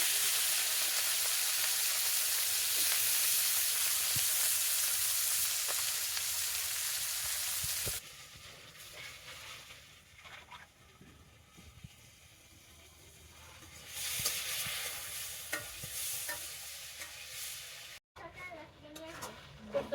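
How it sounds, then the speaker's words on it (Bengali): Rice fries in mustard oil in a village kitchen pan, a bright hissing sizzle loud for the first several seconds, then dropping to softer crackles and stirring with background voices and clatter, briefly surging again. "ভাত দেওয়া হয়ে গেছে একটু ভেজে নেই"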